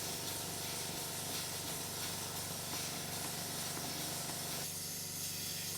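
A collection of Stuart and other model steam engines running on steam from a common supply line, giving a steady, quiet hiss with a fine rapid mechanical chuffing underneath that shifts slightly near the end.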